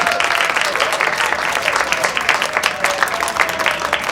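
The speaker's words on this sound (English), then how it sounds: "Let's give them a round of applause." Loud, close crowd applause at a fairground show, many hands clapping in a dense continuous patter that holds steady throughout without speech.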